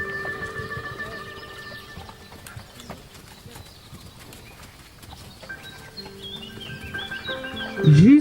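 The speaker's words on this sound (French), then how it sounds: "mais aussi avec un galop sans rien autour de la tête du poney, du cheval d'ailleurs en l'occurrence." A horse gallops outdoors with hooves beating in a quick, repeated rhythm at moderate distance. Birds chirp faintly behind it, and a louder vocal sound rises briefly at the end.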